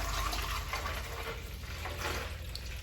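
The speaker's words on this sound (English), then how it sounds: "now we're just gonna add water up until the B level" Fresh water pours steadily into the water tank of a DeLonghi La Specialista espresso machine, a continuous close splashing fill for the whole stretch with no talk.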